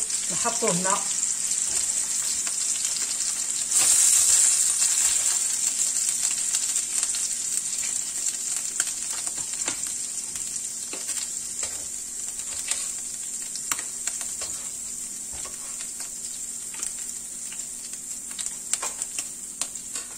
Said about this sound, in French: je vais passer à la friture